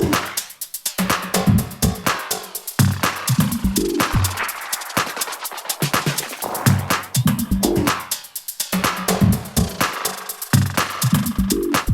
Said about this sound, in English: I like to keep it in free because then it sounds like a tape delay when you're moving it up and down